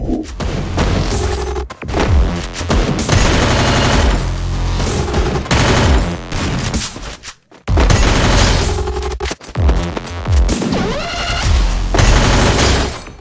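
Dense automatic gunfire and fusillade bursts in the Free Fire battle-royale game, loud and continuous with booms, briefly dropping out once before resuming.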